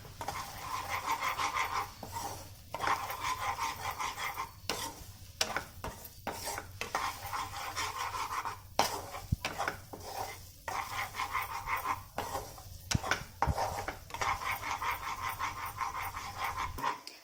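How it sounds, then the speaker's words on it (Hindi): Flour frying in a pan for Schezwan masala aloo, stirred steadily until it browns: a continuous close scraping and soft sizzle with repeated spoon strokes against the pan, with no talking. "आटे को हमें अच्छी तरह से फ्राई कर लेना है, ब्राउन होने तक।"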